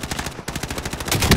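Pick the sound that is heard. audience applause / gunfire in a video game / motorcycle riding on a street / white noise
gunfire in a video game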